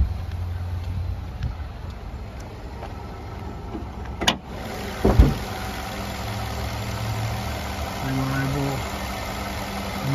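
A Nissan Rogue four-cylinder engine idles steadily at a low, even rumble, with a couple of sharp clunks partway through and faint voices in the background.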